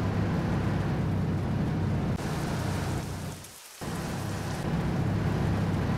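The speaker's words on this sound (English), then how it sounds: "The rain effects, guys." Steady heavy rainfall in the trucking game 18 Wheels of Steel: American Long Haul, a dense continuous hiss that briefly thins and dips before returning at full strength.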